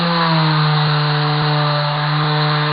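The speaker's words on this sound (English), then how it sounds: "now I start sanding" Orbital sander with 40 grit paper working on wood, a loud steady motor whine with strong tonal hum and a constant gritty abrasive rasp, close and uninterrupted throughout.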